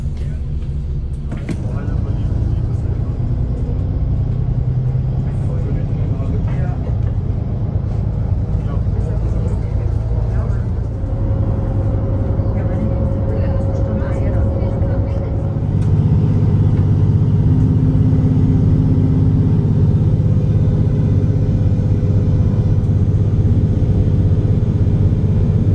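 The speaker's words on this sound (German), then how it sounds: "warte jetzt hier auf meinen Bus, der Almerlebnisbus, der mich bis zum Hörspiegel fährt" Interior of the Almerlebnisbus, a mountain bus in Berchtesgaden climbing toward the Hörspiegel, with a steady engine rumble and road noise throughout that swells louder in the last stretch. Voices murmur faintly beneath it.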